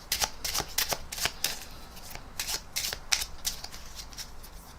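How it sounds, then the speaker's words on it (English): A deck of playing cards shuffled and riffled up close, a steady run of crisp flicks and snaps over a low background hum, with no speech. "you're welcome to cut these cards or shuffle these cards if you'd like to."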